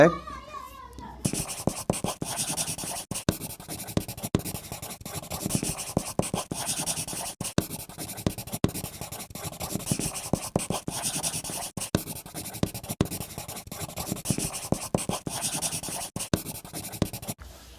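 Writing on a classroom board, with a long run of quick scratchy strokes and frequent small taps at a steady busy pace, close and moderately loud, under occasional faint talk.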